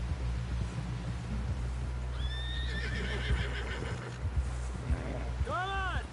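A horse neighs in the video game Red Dead Redemption 2, a whinny rising mid-clip and another sharp one near the end, over low rumbling ambience and clip-clopping hooves.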